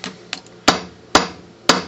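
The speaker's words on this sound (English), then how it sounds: "put it on top, and then hammer it down" A hammer drives a nut down onto a motor bearing, striking about three sharp metallic blows at an even pace after a couple of lighter taps, close and loud.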